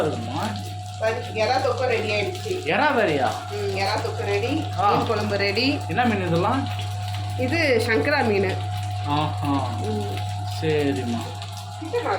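Rohu fish coated in masala sizzles in a pan in a home kitchen, a steady frying hiss running under near-continuous conversation and a constant low electrical hum.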